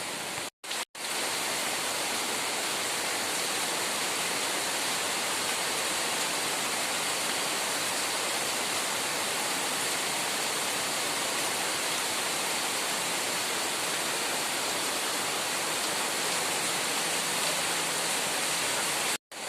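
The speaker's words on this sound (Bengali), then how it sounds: "কচু পাতার ওপর বৃষ্টি পড়ছে" Heavy rain pours steadily onto taro leaves, a dense, even hiss that runs unbroken for the whole stretch with no voices.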